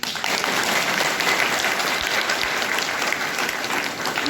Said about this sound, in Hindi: अगर आपको ये सब पसंद आ रहा है तो जरा खुलकर ताली बजाइए।